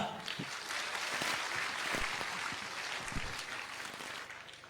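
An audience at a Youth Mahapanchayat political gathering claps to open the proceedings, a broad steady burst of applause with a few sharper individual claps standing out.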